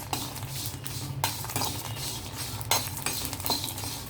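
Stuffing ingredients for bitter gourd roast lightly in a pan, with a spatula scraping and stirring in irregular strokes over a soft, steady sizzle.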